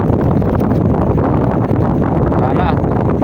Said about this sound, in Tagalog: lakas na kasi ng hangin